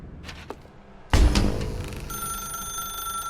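After a few light knocks and a heavy thump, a telephone in The Stanley Parable video game starts a steady electronic ring. The ring continues clearly over the last second of the scene.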